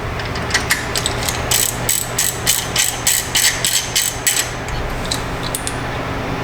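Bolts being run down with a ratchet on BMW G80 M3 wheel spacers: a quick, close burst of ratcheting clicks in steady rhythm for about three seconds over a low background hum, then a few scattered clicks.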